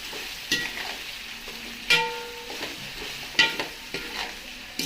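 Dhokla pieces stirred and tossed in a pan make a series of distinct scraping, clattering strokes against the metal, spaced a second or so apart, over a faint background sizzle.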